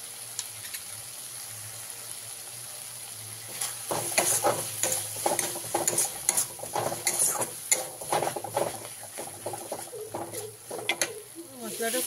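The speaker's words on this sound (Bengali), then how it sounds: "জলটা দিয়ে ভালো করে মশলাটা কষিয়ে নেব।" Spice paste with added water and tomato frying in a pan while being stirred, a steady sizzle under repeated scraping strokes that grow louder and busier after the first few seconds, with no talk.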